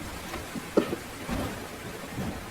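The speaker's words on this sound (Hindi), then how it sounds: "इस वर्षावन में तो बहुत ज्यादा बारिश होती है।" Heavy rain hisses steadily with a low rumble underneath and a few brief louder patters, no voices.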